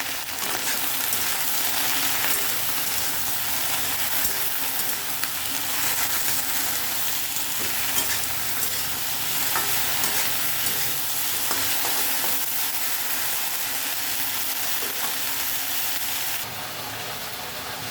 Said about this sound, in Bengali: ঢেঁড়সটাকে হালকা করে একটু ভেজে নেব।